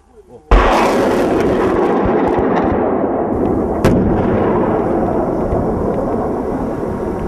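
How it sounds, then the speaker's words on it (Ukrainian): A sudden loud launch roar followed by a long rolling, rumbling barrage of Grad multiple rocket launcher fire, with a sharp crack partway through; distant and sustained. "стріляли з реактивних систем залпового вогню ГРАД"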